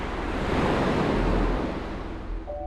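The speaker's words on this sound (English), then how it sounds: "the waves are crystal clear and super clean" Ocean surf breaks in a continuous, close rush of foamy water with some wind buffeting the microphone, fading slightly toward the end, with no voices.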